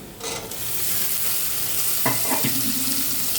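Boiled peas tipped into golden onions frying in a pan, a loud continuous sizzle with a sharp burst of hissing and spatula stirring as they go in, no voices.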